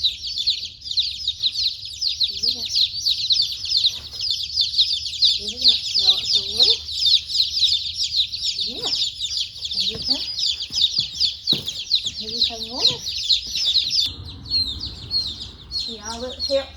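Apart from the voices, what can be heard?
baby chicks chirping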